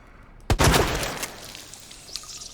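A loud, close gunshot bursts out in Resident Evil 2 Remake as zombies take headshots, followed by a ringing decaying tail and faint after-sounds, with no talk.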